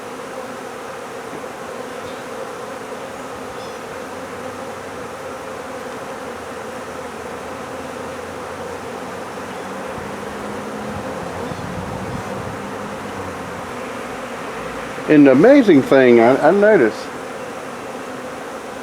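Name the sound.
swarm of bees moving into a box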